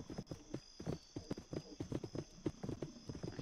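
Horse hooves clip-clop in a Roblox video game in a quick, steady rhythm, close and clear over a faint electronic hum, with no voices.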